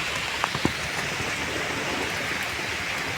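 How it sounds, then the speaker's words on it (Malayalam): Steady rain falling outdoors in windy weather, a broad continuous hiss with a few faint drips or knocks near the start. "മഴ പെയ്യുന്നുണ്ട്"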